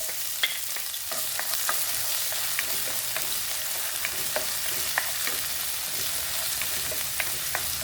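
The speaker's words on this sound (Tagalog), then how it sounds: "Ginisang corn beef." Corned beef sautéing with garlic and onion in a pan gives a steady, close sizzle with light scraping stirs recurring every second or so, and nobody speaks.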